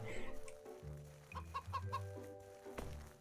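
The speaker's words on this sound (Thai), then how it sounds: "นี่เป็นไก่ที่ปกติที่สุดที่ผมเคยเห็นมาก่อนเลย ไก่จริงๆ" Chicken clucks from the video game CHKN, several short clucking calls in a row with a low game hum underneath, close and clear with no talk.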